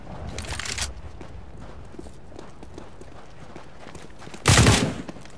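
Gunfire in Counter-Strike: Global Offensive on the Dust2 map, with running footsteps and scattered shots, then a loud close burst of rapid fire near the end.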